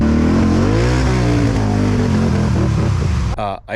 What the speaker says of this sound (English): I can't hammer it too hard because as soon as I hit the rev limiter, it goes into limp mode